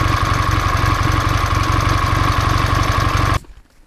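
A Ural motorcycle engine idles loudly and steadily up close during carburetor synchronization, with a fast, even pulsing, then cuts off abruptly near the end, leaving quiet.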